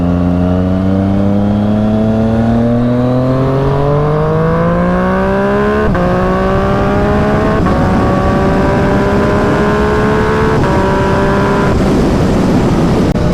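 A Yamaha FZ-09 motorcycle accelerates hard through several gears, its loud close engine note climbing in pitch, dropping briefly at each shift, then rising again under strong wind noise.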